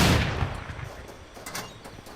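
An explosion in a sniper video game: one loud, close blast that rumbles and fades over about two seconds, with faint crackling afterward and no speech.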